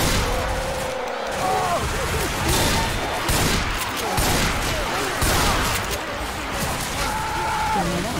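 Rapid gunfire rattles through a multiplayer shooter match, bursts of shots and crashing impacts packed close together at a steady loud level, with players shouting and talking over the fighting.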